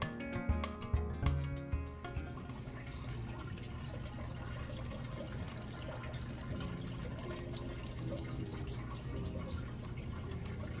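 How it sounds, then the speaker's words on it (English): Water trickling and splashing steadily in a hydroponic lettuce grow farm stand, a continuous moderate wash with a few louder splashes at the start, no voices. "Now, depending on your water level in your lettuce grow, this is about how loud it is."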